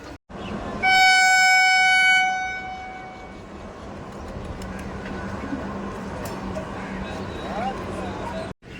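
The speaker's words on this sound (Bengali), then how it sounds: "আমি যেই ট্রেনে করে এলাম সেই ট্রেনটা বেরিয়ে যাচ্ছে দমদম স্টেশন থেকে" A train horn blares loudly for about a second, then a steady rumble of rolling railcars continues as the train pulls away from Dum Dum station in Kolkata nearby.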